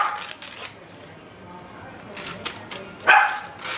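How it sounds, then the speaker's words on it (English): Indoor dogs give a few short, sharp barks and yips close by, mixed with rustling and shuffling noises. "Sorry about the dogs."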